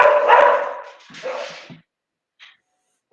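Dogs barking up close in a couple of quick bursts, followed by quieter yips and then silence.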